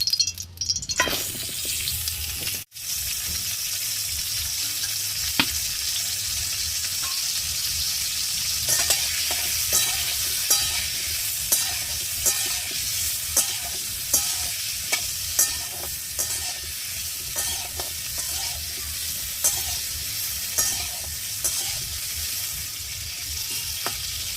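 Cauliflower pieces drop into hot oil and fry in a pan, a loud, continuous sizzle with scattered crackles and stirring clinks throughout.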